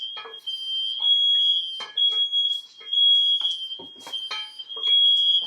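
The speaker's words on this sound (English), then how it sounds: "She set off the smoke alarm." A piercing, continuous smoke alarm tone, set off by cooking in a kitchen, sounds throughout, with clattering and bumping noises close by around it.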